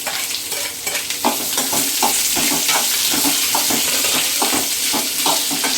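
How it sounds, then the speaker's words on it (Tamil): Onions and tomatoes sauté for chutney in a pan, sizzling steadily up close while a utensil stirs and scrapes in an uneven rhythm, with no voices. "வெங்காயம் நல்லா வதங்கணும்."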